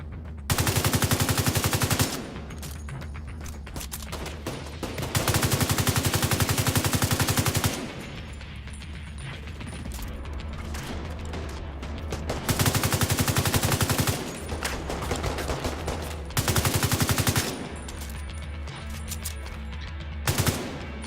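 Bursts of automatic gunfire in the video game The Division 2, several sustained loud rattling volleys lasting a few seconds each, separated by quieter stretches of distant firing and ambience.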